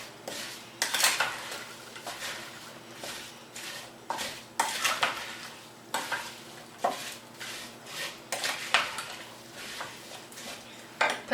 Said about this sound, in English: we're going to mix it up.